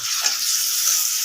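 Chopped onions fry in hot oil with a bay leaf and cinnamon, giving a steady, close sizzle with a few soft scrapes from stirring.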